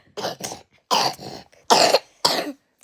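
Four harsh coughs in two pairs, close and loud, with brief silences between them.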